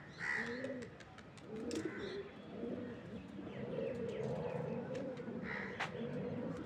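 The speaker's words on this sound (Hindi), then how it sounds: "और सारे कबूतर आसमान की तरफ जाते हुए" A flock of pigeons takes off skyward from a rooftop loft, with soft cooing and flapping mixed through steady outdoor ambience, plus a few sharper calls from other birds; moderately near and continuous.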